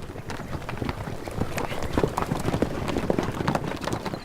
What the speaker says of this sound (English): bareback horse racing, in which the rider of the winning family may carry a golden lion-shaped banner